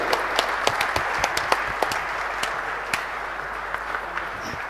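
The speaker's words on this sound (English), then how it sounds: "this is the moment to give the clap to the team which has made this thing possible" Audience clapping for the Spark10 team at an accelerator launch event in India, a steady wash of applause with sharp individual claps popping out, fairly close and continuous throughout.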